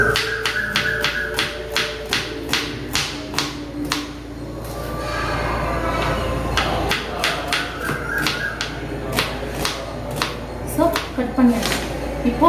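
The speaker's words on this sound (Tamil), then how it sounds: "பின்னாடி இங்கே கன்ஸ்ட்ரக்ஷன் ஒர்க் போயிட்டு இருக்கு ஸோ சவுண்டு கொஞ்சம் நாய்ஸ் எல்லாம் இருக்கும்" Construction work carries on in the background as a steady run of sharp, regular hammer-like taps, moderately loud, over a constant low hum.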